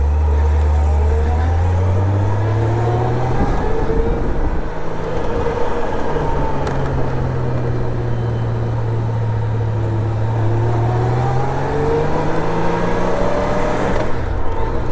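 A 1997 Honda Goldwing GL1500SE's smooth, quiet engine runs steadily, its hum rising and falling gently as the motorcycle moves along, with faint road noise and no talk.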